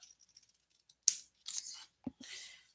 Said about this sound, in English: So I am going to cut slant up.